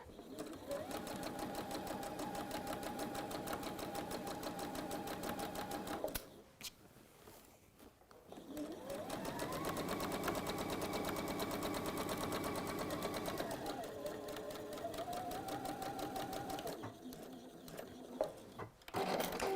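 A Juki sewing machine fitted with a genuine Juki bobbin runs in steady stitching bursts, smooth and close without rattling, pausing briefly between runs as a voice talks nearby.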